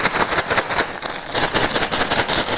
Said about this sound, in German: Ich muss alles gut schütteln, damit sich die Gewürzmischung gleichmäßig verteilt.